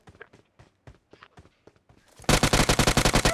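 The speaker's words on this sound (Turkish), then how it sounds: "ön binadan sıkıyorlar" A video-game shootout in which enemies fire from a building. Scattered soft thuds and clicks give way to a loud, rapid burst of automatic gunfire with evenly spaced shots, close and continuous to the end.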